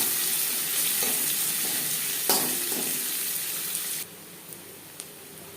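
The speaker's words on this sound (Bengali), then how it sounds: "জিরে ভেজে নেওয়ার পর দিয়ে দেবো পেঁয়াজ কুচি।" Chopped onion hits hot oil with fried cumin seeds and sets off a dense, close sizzle with a few soft stirring knocks. The frying noise drops noticeably quieter partway through and then continues more gently.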